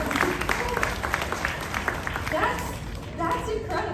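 Audience applause at SeaWorld Orlando, a steady wash of clapping from a crowd with children's voices and talk mixed throughout the few seconds.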